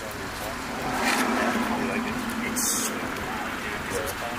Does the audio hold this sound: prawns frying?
no